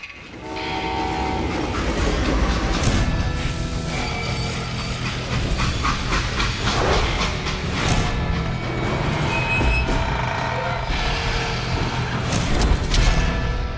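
A video game train in Call of Juarez: Gunslinger rumbles along steadily with rhythmic clatter and bursts of horn, loud and continuous throughout.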